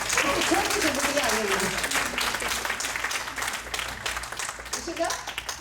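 Sustained audience clapping fills a hall at a Guru Purnima celebration gathering, loud and dense, with a voice speaking over the start and again near the end.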